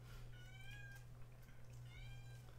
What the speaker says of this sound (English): apologies if you can hear the cat meowing in the background